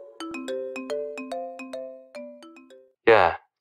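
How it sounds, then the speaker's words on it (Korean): A phone ringtone plays a quick series of bright electronic tones in a stepping melody, then stops, followed by a brief burst of voice. "토요일 주말 저녁 집에서 쉬고 있는데 진수 형 전화가 오더라고요."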